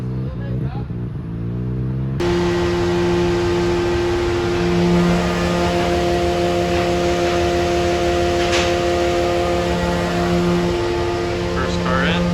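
A car drives slowly into a shipping container for cross-country shipping, its engine giving a steady, loud droning hum with a rising tone after an abrupt start, echoing inside the enclosed metal space.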